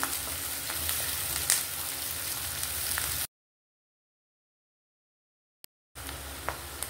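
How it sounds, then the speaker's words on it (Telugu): Onions and curry leaves fry in hot oil, a steady close sizzle with small pops that drops to complete silence for a few seconds, then resumes with the same crackling hiss. "ఇప్పుడు ఉల్లిపాయలు కొంచెం ఫ్రై అవ్వాలి."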